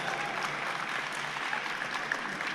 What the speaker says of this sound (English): I just want to give the drummers, Dunia, a wonderful round of applause.